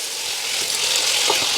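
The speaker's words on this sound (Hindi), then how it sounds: "इसे अच्छी तरह से तकरीबन 10 मिनट तक भून लें" Mutton sizzles steadily in a karahi with ginger, garlic and cumin, a bright, even frying hiss close to the pan with soft crackles and no voices.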